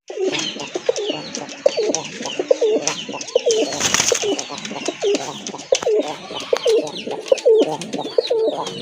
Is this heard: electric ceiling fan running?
no